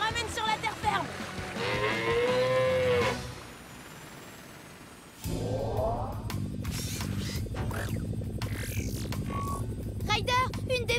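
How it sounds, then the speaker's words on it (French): A cartoon cow moos in long, drawn-out, wavering calls in a French-dubbed Paw Patrol episode, set among other cartoon sound effects and voices. "Ryder, une des vaches se trouve juste devant chez Monsieur Porter"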